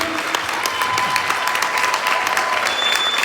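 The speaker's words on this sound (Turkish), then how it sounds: "Tüm arkadaşlarımıza büyük bir alkış." An audience claps at a training event, with steady, dense applause filling the whole few seconds at close, even loudness and no pause.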